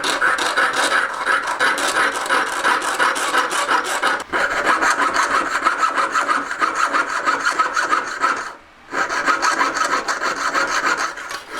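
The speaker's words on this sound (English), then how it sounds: "so we're just sawing a line down the middle." Steady back-and-forth rasping of a hand saw cutting metal for a leaf ring, continuous strokes with one brief pause near the end, close and fairly loud.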